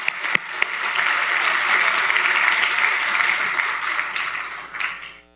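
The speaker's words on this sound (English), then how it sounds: "Let's give a round of applause for our special guests" Audience applause for special guests at a conference welcome session fills the room for about five seconds, steady and dense after a couple of sharp early claps, then tapers off quickly at the end.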